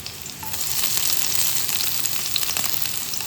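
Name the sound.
ginger, garlic and green chilies frying in oil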